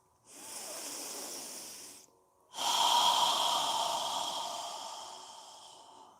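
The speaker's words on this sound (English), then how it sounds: "We're going to begin by breathing, inhaling through our nose and exhaling through our mouth." Two long breaths, a steady inhale through the nose followed after a brief pause by a fuller, louder exhale through the mouth, close and alone without speech, as in a yoga breathing exercise.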